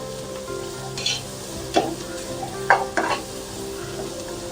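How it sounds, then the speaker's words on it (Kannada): Ginger garlic paste fries in a pan with a soft constant sizzle while a spoon scrapes and knocks through it in several short strokes, near and without voices. "ಹಸಿ ಸ್ಮೆಲ್ ಹೋಗೋವರೆಗೂ ಸ್ವಲ್ಪ ಫ್ರೈ ಮಾಡ್ಕೊಳ್ಳಿ."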